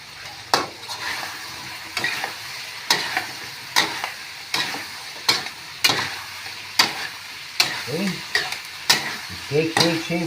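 Squash pieces being stirred and fried in a pan for a vegetable dish: rhythmic scraping utensil strokes roughly every second over a steady close sizzle, with no talking.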